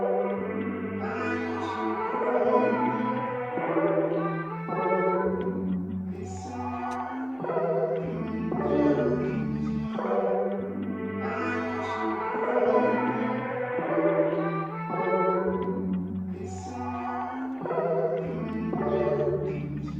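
A vintage R&B sample loops continuously with reversed, chopped vocal chops over a warm bass line, dense and steady throughout.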